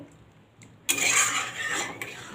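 Ground poppy seed paste stirred with broken potatoes in a pan, cooked without oil; a quiet lead-in gives way to a sudden, steady close-up scraping and stirring that runs to the end, with a brief clink near the finish.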